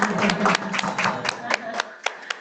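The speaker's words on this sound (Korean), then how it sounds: "박수를 한번 일단은 박수를 한번." Church congregation at a Sunday service gives a brief round of applause, clapping that starts fairly full then thins to a few scattered, sharp claps trailing off.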